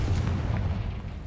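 A Confringo spell blast in Hogwarts Legacy goes off as one sharp, booming explosion at the start, then rumbles away quickly.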